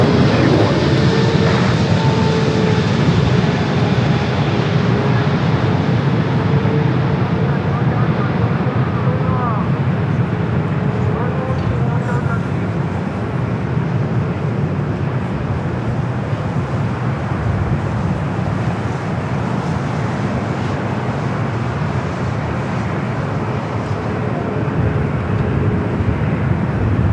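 An airliner taxiing at LAX, its jet engines giving a loud, steady broadband roar that holds nearly constant throughout, with faint voices underneath.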